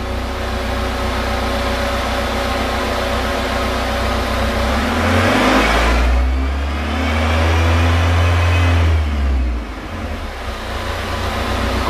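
A car engine revs up from idle and holds higher speed during a crankshaft position sensor test, a loud steady hum rising in pitch, sustained, then dropping back toward idle near the end.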